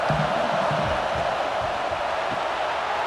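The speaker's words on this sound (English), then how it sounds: "This crowd trying to make life miserable for this offense." Crowd noise at a college football stadium during a Louisiana Tech versus LSU game, a dense, steady roar of many voices that holds throughout without letting up.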